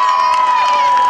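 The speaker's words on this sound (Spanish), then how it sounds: "Un fuerte aplauso para ella" Audience at a school parents' gala in 2022 applauds and cheers for a dedicated dance, a dense, steady roar of clapping and shouting voices, loud and close throughout.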